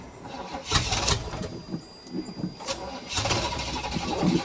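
A ramp truck engine that has run out of gas cranks in two long stretches with a pause between, the starter grinding and whirring close by without catching.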